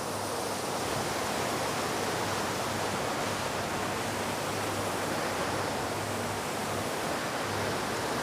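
An old sewage pumping machine lifts water with a steady, dense rush and splash of flowing water and no clear mechanical rhythm, constant in level throughout.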